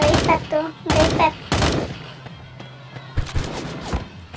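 Gunfire in the Sausage Man battle royale game: sharp bursts of shots in quick clusters, loud and close, separated by quieter gaps with faint ambient sounds.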